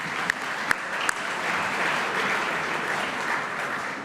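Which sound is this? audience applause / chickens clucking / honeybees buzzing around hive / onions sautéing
audience applause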